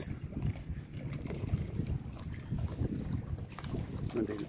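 Wind blows over the Meghna river in Lakshmipur, giving a steady buffeting rush with low gusty rumbles, close to the microphone, along with faint water sounds.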